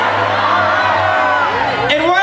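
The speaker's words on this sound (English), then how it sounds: "On the count of three, yell it out." A crowd waiting in line for the opening of Diagon Alley yells out together on cue, a loud, dense burst of cheering and whooping voices at close range.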